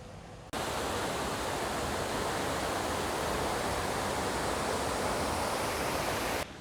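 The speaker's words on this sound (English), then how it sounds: "there's a beautiful waterfall behind me next to the actual lake" A waterfall beside a lake near Weaverville, North Carolina gives a loud, steady rushing roar that cuts in abruptly, holds without change and drops off again near the end.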